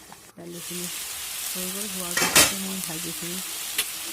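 Vegetable fry being stirred in a hot pan, a continuous sizzle broken by scraping stirs and a sharp clatter of the utensil midway, with a voice speaking over it.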